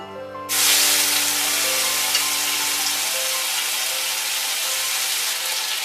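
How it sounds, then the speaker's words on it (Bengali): Poppy seed paste hits hot oil already tempered with black cumin over a medium gas flame, bursting into a loud, sudden, sustained sizzling hiss that continues steadily to the end, with no talking. "এবার এর মধ্যে আমরা পোস্ত বাটাটা দিয়ে দিচ্ছি।"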